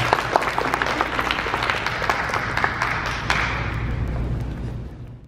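An audience claps to welcome a lawyer to the stage at a seminar on legal responses to injury incidents, a dense, steady round of applause that holds for several seconds, then tapers off at the end.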